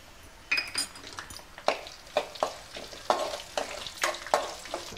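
Slit green chillies for lemon rice hit hot oil in a pan, giving a soft sizzle punctuated by about a dozen sharp spatula clinks and scrapes against the metal at an uneven rhythm.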